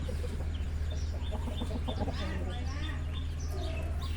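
A young Burmese fighting rooster clucks in a series of short, close clucks over a constant low hum and background noise.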